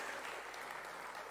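An audience claps steadily at a political rally, a soft, continuous patter of applause from a crowd that fills the short moment at a low, even level.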